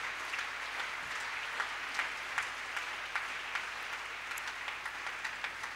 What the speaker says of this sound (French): On acclame le Seigneur, notre Dieu.